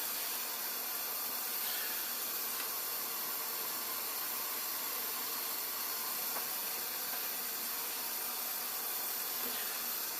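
Wort for a home-brewed Polish pale ale comes to the boil with a steady, even hiss and roar, like steam rushing, unbroken for the whole stretch and fairly quiet.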